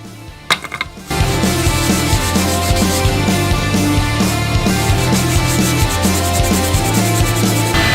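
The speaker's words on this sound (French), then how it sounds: "j'utilise une vieille chute de métal que je vais travailler, poncer et polir comme la lame" An old scrap of metal is sanded to shape a knife guard, producing a loud, steady abrasive rubbing with a rhythmic back-and-forth pulse that runs nonstop after a brief clatter at the start.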